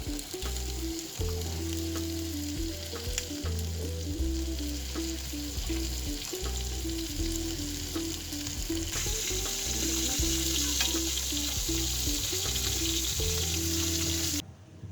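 A large fish head fries in hot oil for a moong dal dish, a loud continuous sizzle close by, with a low background hum throughout and no talking.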